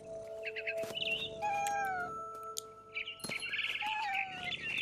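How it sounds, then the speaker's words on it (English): Bird chirping in the video game What Remains of Edith Finch: bright, repeated short tweets in quick bursts, with meow-like cat calls and a steady tonal background. "Then I heard chirping outside my window."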